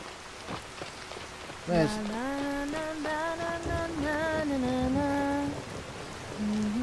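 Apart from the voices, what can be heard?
rain falling in the video game Skyrim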